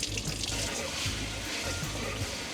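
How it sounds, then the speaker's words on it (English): Water runs steadily from a faucet into a deep kitchen sink in a self-built Ford Transit camper van, a continuous close hiss with good pressure, with no talk over it. "We have plenty of water and great pressure to wash our dishes"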